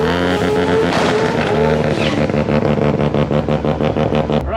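A rotary-engined Datsun drag car launches hard at a drag strip, its loud buzzing engine note climbing and holding close up through a rapid, pulsing rise in revs.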